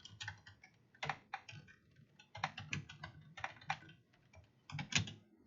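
Rapid keystrokes on a computer keyboard while entering basic Python code, coming in uneven bursts of crisp, close clicks with short pauses between runs of typing.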